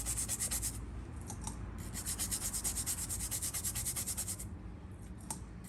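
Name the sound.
brush scrubbing an ECM circuit board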